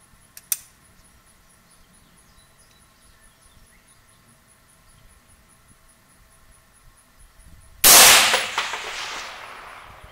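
A rifle fires a single loud report at a long-range target, with a sharp crack followed by a decaying outdoor echo, after a small faint click near the start of an otherwise quiet stretch.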